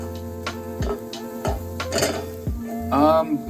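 A pan of Rice Krispie square mixture sizzles at high heat as it melts, sticks and burns, with a spoon scraping and stirring against the pan in repeated strokes and low clatter.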